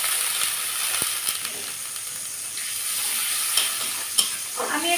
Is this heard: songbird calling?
no